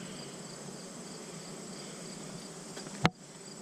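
A steady insect buzz from bees at an outdoor hive hums continuously and fairly softly, ending with a sharp brief thump near the end.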